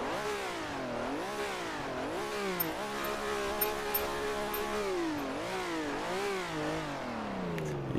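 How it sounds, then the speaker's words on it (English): A Ferrari 330 P4 with a 4-liter V12 revs repeatedly in Assetto Corsa, the engine note climbing and falling in smooth, rich sweeps, close and steady, with no talk over it. "Got to give it a rev first."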